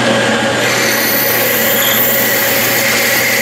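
A 23/64 drill bit grinds into metal on a Logan lathe with a loud, steady mechanical whine, continuous and close, with no one talking.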